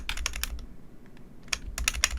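Computer keyboard keys pressed in quick bursts of clicking, with a pause in the middle before more rapid taps, close and fairly quiet with no talking.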